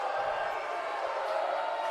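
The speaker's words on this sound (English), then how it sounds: "You can hear the crowd really into this one" Spectators at a college men's wrestling championship keep up a steady, even roar of cheering, a dense wash of crowd noise that fills the arena without pause or sharp peaks.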